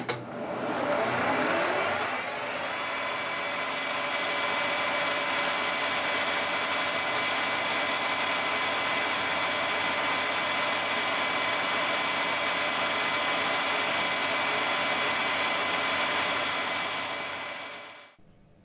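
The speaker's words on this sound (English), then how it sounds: "The 10mm boring bar sings horribly if it has too much stick out" Metal lathe cutting with a 10mm boring bar, a continuous high-pitched singing whine with steady tonal chatter, loud and close, running unbroken for most of the clip before fading at the end.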